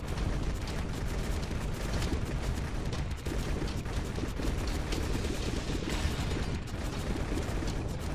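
A dense, continuous barrage of explosive punch attacks and impact effects from the video game God Of Weapons, loud and rapid-fire without a break, like a crackling fusillade filling the whole stretch.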